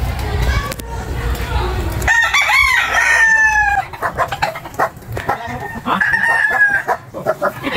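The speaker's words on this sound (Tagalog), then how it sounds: "Tingnan natin yung manok ni Tatay Pekto dito." A rooster crows loudly nearby, repeated a couple of times, with hens clucking and people talking in the background.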